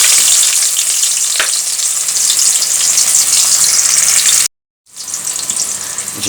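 Onion frying in hot salted oil in a wok, a loud steady sizzle with stirring noises that cuts out abruptly for a moment near the end, then resumes.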